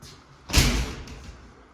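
A glass shower door in a walk-in shower of a model townhome swings shut with a single soft thud and a brief rattling wash that fades over about a second, with no talking.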